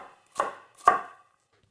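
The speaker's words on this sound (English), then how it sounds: "Slice it lengthwise, then cut it across once, and then chop it finely" A knife chops finely through onion on a cutting board, two crisp distinct strikes a half second apart followed by the start of a third, close and clear with no talk.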